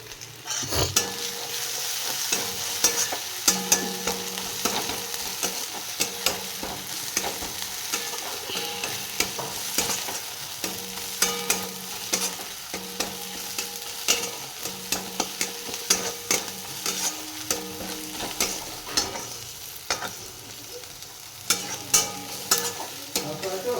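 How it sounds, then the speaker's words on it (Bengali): Chili chicken with bitter gourd stir-fried in a pan, a close, continuous sizzle broken by frequent sharp scrapes and knocks of a spatula against the metal pan, with no talking. "এটা আমি করলার কর্তা দিয়ে চিলি চিকেনটা বানাচ্ছি।"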